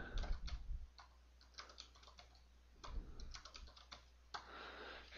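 Quick bursts of typing on a computer keyboard, soft close clicks in uneven clusters with short pauses between runs of keystrokes, heard alone at a low level.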